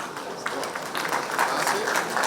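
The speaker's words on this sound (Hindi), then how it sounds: "इस समय तालियां अनुगुंजित होती रहनी चाहिए आप सबकी तरफ से" An audience at a budget event with the chief minister applauds in a steady patter of many hands clapping, moderately loud, with a voice speaking over it.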